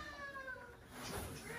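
A very fat, oversized house cat meows, its drawn-out tonal cries fairly close and clear over a faint background murmur for about a second and a half.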